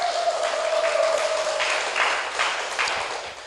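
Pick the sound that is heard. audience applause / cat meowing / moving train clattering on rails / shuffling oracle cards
audience applause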